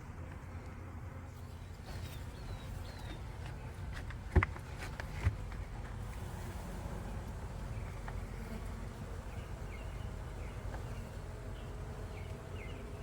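A large swarm of honeybees from a rescued colony buzzes steadily as it is dumped into a hive, a dense continuous hum with a couple of brief knocks.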